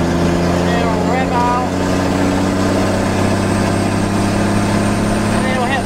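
A 1st-gen Cummins diesel truck engine paired with a 47RE transmission winds up under load, a loud steady drone with rising whine, heard from inside the cab while someone talks over it.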